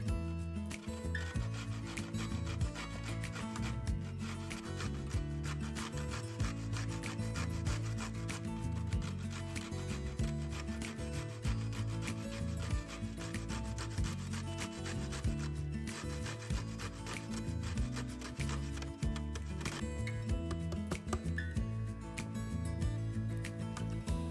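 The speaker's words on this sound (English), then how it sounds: "grate 3 pickled cucumbers" Three pickled cucumbers rubbed against a grater in close, steady, rhythmic scraping strokes that run continuously without pause and with no talking.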